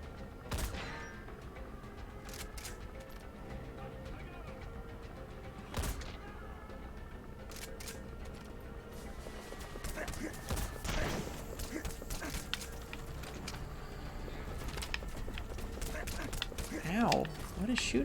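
Gunfire aimed at the player in the video game Metal Gear Solid V, scattered sharp shots and bursts over ambient game noise, with someone talking throughout.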